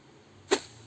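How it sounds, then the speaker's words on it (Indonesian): A single short whoosh from a Kinemaster editing-app sound effect, the middle high variant: a quick airy swish that flares up sharply and fades within a fraction of a second after a quiet lead-in. "misalnya saya pilih ini whoosh ya"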